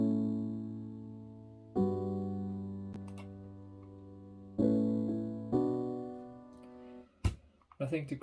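Sustained synth chords for a future bounce track, a few long held stacks changing at intervals, fairly loud and alone, ending with a brief burst of clicks and noise.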